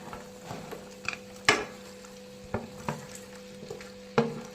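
Chopped sprouts go into a pan of softened potatoes and peas, bringing a low sizzle with a few sharp clinks and scrapes of a spoon against the pan, fairly faint.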